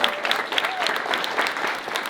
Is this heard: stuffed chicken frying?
no